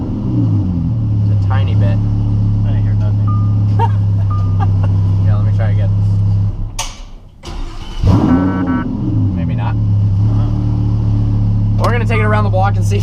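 A Lamborghini idles with a steady low engine rumble, and a faint rattle from underneath is only just audible. Someone talks over it, and the engine note dips briefly in the middle.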